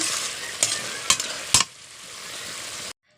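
Mola fish curry being stirred with a splash of raw mustard oil, a bright frying hiss punctuated by three sharp spoon scrapes, then a softer sizzle that cuts off abruptly.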